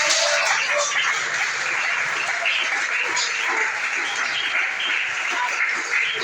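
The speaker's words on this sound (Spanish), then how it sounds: "Denle ese aplauso al Rey de la Gloria." A church congregation claps for the King of Glory during a Pentecostal service, sustained dense applause with mixed cheers at steady volume, and a dog seems to bark faintly underneath.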